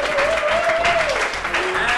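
A crowd applauds for a man's birthday, loud continuous clapping with a voice or tone gliding underneath and some chatter mixed in.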